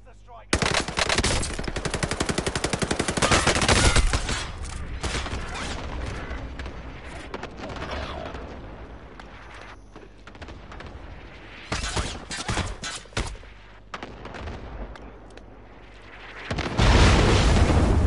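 Sustained automatic gunfire in Call of Duty: Warzone solos, loud bursts of machine-gun fire rattling across the whole stretch, with a dense opening volley, quieter sporadic shots through the middle and another heavy burst at the end.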